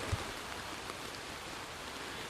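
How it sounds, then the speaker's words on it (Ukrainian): Rain falls steadily in a forest, a soft, even hiss of drops on leaves and ground throughout, fairly faint and continuous, with a single small knock near the start and no voices. "Дощ у нас не перестає."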